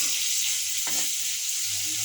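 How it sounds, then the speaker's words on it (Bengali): Cauliflower and new potatoes fry in a pan with a steady, close hiss. A brief scrape or stir comes partway through. "ফুলকপি ভাজি।"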